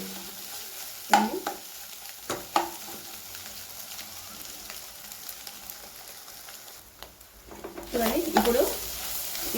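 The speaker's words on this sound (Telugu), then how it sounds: "పచ్చి స్మెల్ పోయేంత వరకు ఇలాగే బాగా కలుపుకోవాలి" Tomato egg masala is stirred in a pan, with soft scraping strokes near the start and a louder burst of stirring and sizzling toward the end over a quiet simmer.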